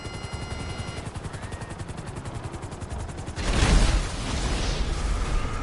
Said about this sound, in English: Now I know you're back in the session because of your explosions.